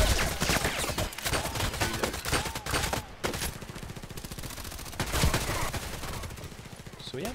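A Vikhr rifle fitted with a scope, silencer and muzzle brake fires in a video game: loud, rapid automatic bursts that run nearly without a break, with a few short gaps between sprays.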